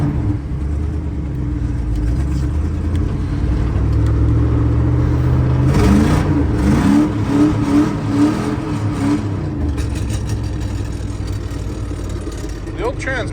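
Big block Chevy V8 engine rumbling while the car drives, a deep steady drone that rises briefly as it revs midway, with a person talking over it.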